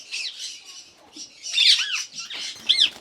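Indian ringneck parakeets squawk in a breeding colony of eight pairs, with several bright, harsh calls in short bursts, the loudest near the middle and end, close and fairly loud with faint scratchy movement between.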